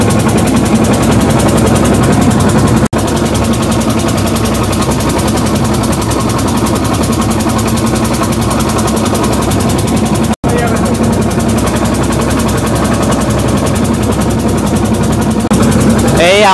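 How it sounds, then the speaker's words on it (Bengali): A boat's generator engine runs with a loud, steady, close rumble throughout, broken only by two brief dropouts, with no talk over it. "এই আমাদের জেনারেটর শুরু হয়ে গেছে বোটের ঘর ঘর আওয়াজের সাথে।"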